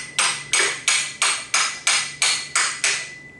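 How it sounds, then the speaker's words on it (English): A socket tapping a BMW X5 AC compressor clutch plate into place: eight light, evenly spaced metallic knocks, close and crisp, each ringing briefly before the next. "gently tap it in place"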